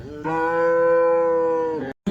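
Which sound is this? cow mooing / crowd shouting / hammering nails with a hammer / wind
cow mooing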